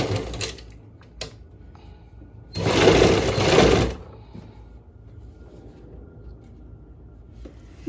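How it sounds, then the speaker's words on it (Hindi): A sewing machine stitches the hook-and-eye strip onto a blouse in one loud, steady run of about a second and a half, close by, with brief handling clicks before and after. "अब यहाँ पे हम सिलाई लगाएंगे।"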